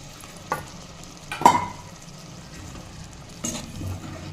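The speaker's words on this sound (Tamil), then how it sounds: "எல்லாத்தையும் சேர்த்து அந்த எண்ணெயிலே வதக்கி விடுங்க" Soft frying sizzle of spices sautéing in oil for a black nightshade berry curry, under occasional stirring clatters of a spoon in a pan, three distinct scrapes spaced a second or two apart.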